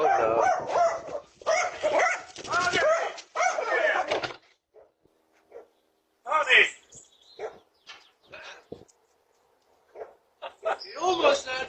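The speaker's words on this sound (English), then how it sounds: "A tiny dog sent a full-grown delivery man running and even leaping over a gate" A small dog barks at a delivery man by a home's gate, caught on a doorbell camera; a few short, sharp barks and yips come in sparse bursts after a stretch of talking.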